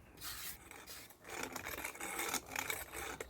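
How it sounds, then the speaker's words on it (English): Handheld wire brush scrubbing moss off roof tiles outdoors: faint, raspy back-and-forth scraping strokes in uneven bursts, with a brief gap in the middle. "Here I'm just using a handheld wire brush that I got from a local hardware shop."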